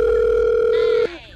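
A steady telephone dial tone hums loud and unbroken for about a second while a call is being placed, then cuts off abruptly and leaves a faint tail of background sound.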